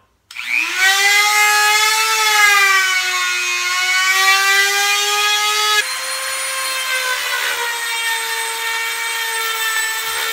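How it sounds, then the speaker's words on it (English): A Dremel rotary tool fitted with a sandpaper bit rounds off the inside quarter of a wooden workbench piece, giving a loud, steady high-pitched whine that shifts slightly in pitch partway through, heard alone without talking. "I'm just going to round it off with a Dremel with a sandpaper bit on it."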